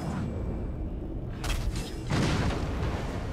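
A barrel explodes in Shadow of War, two heavy booms about half a second apart, each a broad deep blast with a rumbling tail over steady game ambience.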